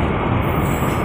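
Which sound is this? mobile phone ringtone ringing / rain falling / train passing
train passing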